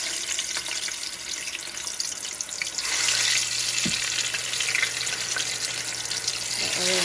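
Fries dropped into hot frying oil at home give a steady broadband sizzle and bubbling that swells louder partway through and holds, with a low hum beneath and no talking.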